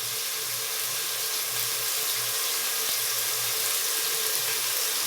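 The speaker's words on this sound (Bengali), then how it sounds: "এখনো পানি পড়তেছে" Water keeps running from a kitchen tap in a steady, even splashing stream, close by and unbroken, with a faint low hum beneath.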